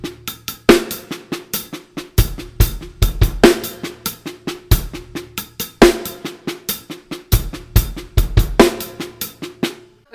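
A drum kit plays a continuous sextuplet and triplet fill pattern, with rapid snare and tom strokes punctuated by regular bass drum and cymbal accents in a steady repeating cycle, loud and close with no talking.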